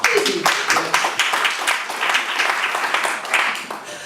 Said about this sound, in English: I'm afraid that you will be tired clapping